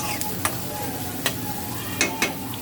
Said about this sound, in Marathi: हे चांगलं लसूण मिरची आणि कांदा चांगला लाल होऊन द्यायचं। कमी गॅसवरती